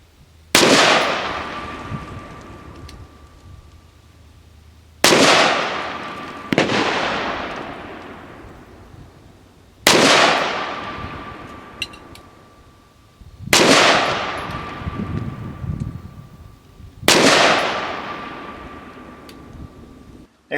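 Five loud, sharp gunshots from a Crusader Arms Templar AR-180 rifle, fired at steady intervals of roughly three to four seconds, each with a long echoing decay that rings across open ground.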